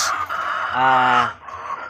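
A chicken's drawn-out, tonal call rises above a steady background hum in a layer poultry house, with a brief voice-like sound near the end.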